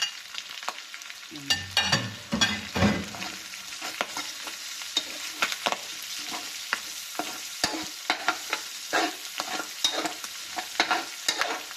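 Onions hit a hot pan of cooking pork and beef for paksiw na lechon, an initial loud burst of sizzle settling into a steady crackle broken by repeated sharp spatula scrapes and knocks, with no talking.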